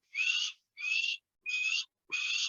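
A voice imitates an osprey's call: four evenly spaced, shrill whistled notes, each about half a second long, repeated in steady rhythm.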